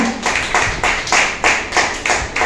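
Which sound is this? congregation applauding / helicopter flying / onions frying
congregation applauding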